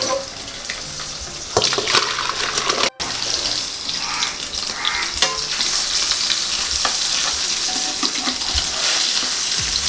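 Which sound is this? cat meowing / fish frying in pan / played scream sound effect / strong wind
fish frying in pan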